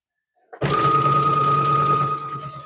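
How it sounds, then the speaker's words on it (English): Sewing machine running steadily as it stitches a Christmas rag quilt diagonally from corner to corner, a close, continuous motor whir with a strong steady hum starting after a brief pause. "I'm just going to sew from one corner to the other"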